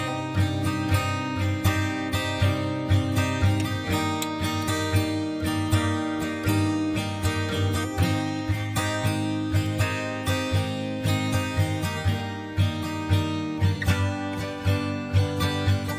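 Guitar strums a repeating chord progression pattern inside a country rap beat, with steady rhythmic strokes over a loud, full backing mix and a pulsing low end, continuing without any talking.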